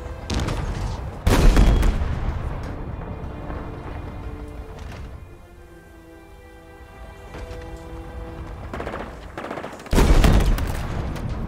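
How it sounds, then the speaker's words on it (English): Halo Infinite firefight: loud bursts of gunfire and grenade blasts hit near the start and again near the end, with a quieter stretch of ambient game tones and distant shots in between. "You throwing grenades at me."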